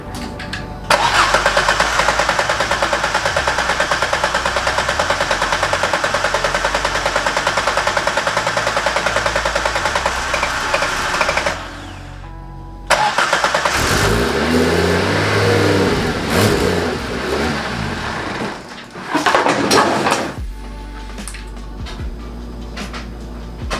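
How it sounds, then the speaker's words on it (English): An Exocet car's engine roars and revs hard through a large, deep, throaty exhaust, cuts off briefly, then rumbles back up with repeated loud revs. "this giant exhaust thing, it sounds like"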